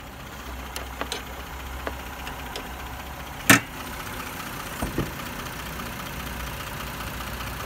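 A 2005 Toyota Camry's 3.0 V6 engine idling with its bay open, a steady low smooth hum with a few faint clicks and one sharp knock partway through.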